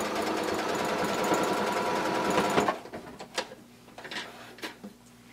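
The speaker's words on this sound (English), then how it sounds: "And then you're going to sew all the way down and close it up just the way we did on the other side." A sewing machine stitches a blanket coat, running in a loud, fast continuous whir for about two and a half seconds, then stopping and leaving scattered faint handling clicks and knocks.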